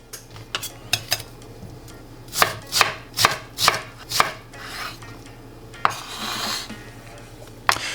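Knife dicing an onion on a cutting board: a series of crisp, close chops, a few spaced at first, then a quicker run of about six evenly paced strokes, with a couple more after a pause, no talking.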